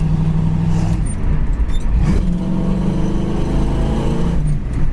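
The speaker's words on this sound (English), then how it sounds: "runs good, drives good, and that brand new dual exhaust really made it sound nice and gives it just a little more oomph." A green 1966 Ford Mustang fastback with a new dual exhaust drives along, its engine a steady, throaty low rumble heard from inside, with a brief rise in revs partway through.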